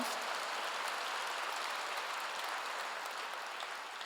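A church congregation applauding during a sermon, a dense steady wash of clapping, fairly faint and distant, with no voices over it.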